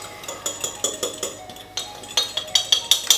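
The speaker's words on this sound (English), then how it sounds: "So now we'll give that a little bit of a mix up together, get it all nice and mixed" A spoon stirs dry ingredients for a white chocolate peanut butter protein blondie in a bowl, clinking against the sides in a quick, steady rhythm of close, bright taps with no talking.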